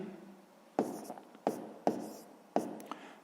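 A math solution for a sixth-grade exercise is written by hand, with quick scratchy pen or chalk strokes arriving in four or five short bursts, close and fairly loud against a quiet room, without talk.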